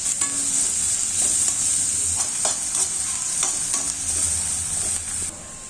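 Onions sizzle steadily with salt in a hot pan while a spoon scrapes and stirs them in several distinct strokes.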